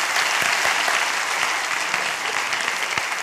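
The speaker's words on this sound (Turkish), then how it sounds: "Evet, teşekkür ederiz arkadaşlar. Alkışlar." A room full of people clapping steadily after a comedy sketch, loud and sustained, with a few faint voices mixed into the applause.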